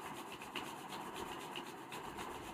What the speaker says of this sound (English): Rub your hands. Generate heat.